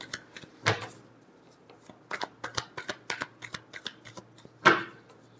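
Tarot cards being shuffled by hand up close, with sharp riffling bursts at the start and end and a run of quick light snaps and taps between them.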